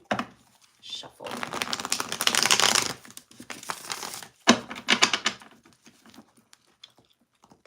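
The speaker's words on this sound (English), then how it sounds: "Let me go ahead and shuffle." Trading cards being shuffled by hand in bursts of crisp riffling and soft patter, close up, with quiet pauses between bursts.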